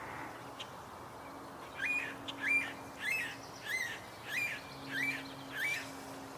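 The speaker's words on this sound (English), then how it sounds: "Chickadee's right near me" A chickadee calls close by outdoors, a series of about seven evenly spaced short chirping notes with a faint low hum behind them and no talking.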